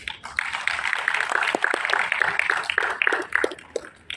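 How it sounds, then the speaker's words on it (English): Audience members at a dental symposium panel give a brief, moderately loud round of applause for a speaker, scattered individual claps blending into a short patter that tapers off. "A round of applause for Dr. Kim."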